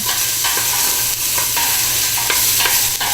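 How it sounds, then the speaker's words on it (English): Garlic sizzles and crackles steadily in a hot pan for turkey chili, a close, continuous frying hiss with occasional stirring scrapes and no talking. "Drop in your garlic. Let the garlic move around a little bit."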